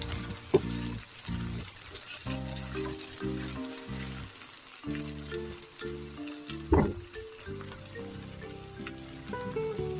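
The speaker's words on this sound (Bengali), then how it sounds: "মরিচগুলো হালকা একটু নেড়ে চেড়ে নিব পেঁয়াজের সঙ্গে" Green chilies frying with softened onions for an eggplant dopiaza, a steady sizzle in the pan under scattered clinks and scrapes of a stirring spoon, with a sharper clatter midway.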